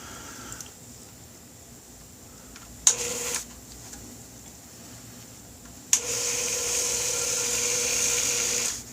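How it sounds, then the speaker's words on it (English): A Dremel 4300 rotary tool runs at its lowest speed, with a short burst of steady whine, a pause, then a longer continuous high-pitched hum that holds level until the end. "We'll turn our RPMs on our Dremel 4300 all the way down."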